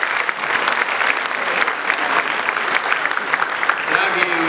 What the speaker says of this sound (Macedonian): да ги наградиме со еден аплауз